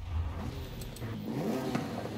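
A Nissan Z with its standard exhaust revving in Forza Horizon 5, a moderate engine note climbing in pitch as it accelerates, fairly quiet and steady with no talk.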